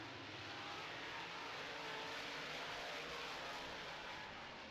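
Late model race cars accelerating on a racetrack under green flag, a dense, continuous engine roar heard from a distance, steady and fairly faint throughout with no clear voices.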